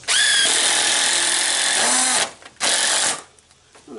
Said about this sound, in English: I'm going to go ahead and screw that in